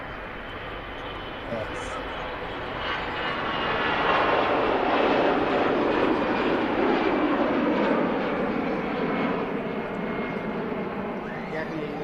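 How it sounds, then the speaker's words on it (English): An Emirates Airbus A380 at Manchester Airport gives off a broad roaring engine rumble that swells and holds steady at a distance, while someone speaks briefly over it. "Emirates A380 in view as well"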